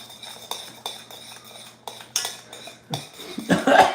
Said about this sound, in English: We gotta keep stirring.